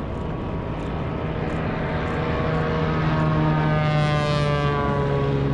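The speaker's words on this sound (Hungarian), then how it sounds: "99 év után újra magyar hidroplán érkezik a Dunára" An Aero Express seaplane lands on the Danube at Adony, its propeller engine droning loudly and steadily throughout, the pitch slowly shifting as it passes close by.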